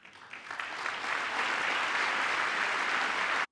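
An audience at a live comedy show breaks into applause, a short, dense burst of clapping that swells quickly and holds steady before cutting off.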